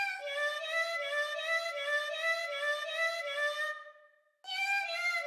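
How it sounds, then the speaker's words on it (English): Meow sample pitched and processed into a singing cat voice, a sustained tonal melody of synthetic meows in steady notes that fades out, pauses briefly, then resumes. "I downloaded this meow sound effect and did the exact same process again"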